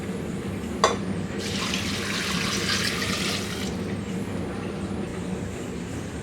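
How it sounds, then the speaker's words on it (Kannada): Water pours steadily into a pressure cooker holding washed cluster beans, a close, continuous splashing rush lasting a couple of seconds after a brief clink, with no talk. "ಒಂದು ಬೌಲ್ ಆಗುವಷ್ಟು ನೀರು."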